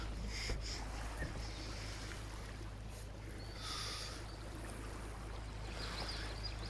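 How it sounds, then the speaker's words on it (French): Boat motoring along the Intracoastal Waterway, with a low, faint, steady engine hum under wind and water noise and no talk. "on a quand même le bruit du moteur"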